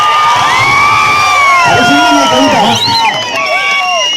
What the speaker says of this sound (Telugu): మోగించండి మీ చప్పట్ల జనక జనక